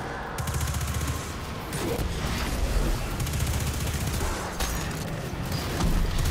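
Bursts of weapon fire in Destiny 2 rattle in rapid volleys over a dense, busy backdrop of game noise. The shots are loud, repeat in quick runs and have short gaps between them, with no voices.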